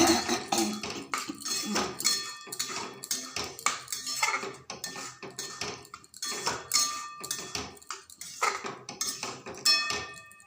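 A spoon stirs soaked semolina in a metal pan for snacks, scraping and clinking against the pan in an irregular run of close, fairly loud strokes with no talking.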